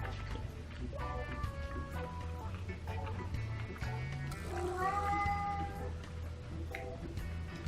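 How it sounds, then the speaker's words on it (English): A cat meows repeatedly, the calls rising and wavering, heard close over steady low background noise in a home while someone eats chicken wings. "It's the only reason why he's meowing right now."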